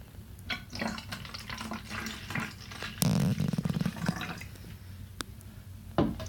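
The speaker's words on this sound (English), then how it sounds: "now I'm going to add a little more water" Water pours and splashes into a container while mixing a garden spray, a rushing stream with knocks and clinks of handling around it, no talking.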